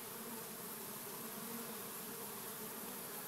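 A dense, continuous buzz of many swarming honeybees, steady and close, with no breaks or voices.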